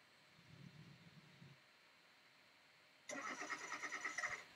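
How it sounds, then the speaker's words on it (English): A revving engine sound effect stays faint and distant at first, then bursts in loud and close for the final second and a half with rising, pulsing roars. "I'm going to put a revving engine in there as well"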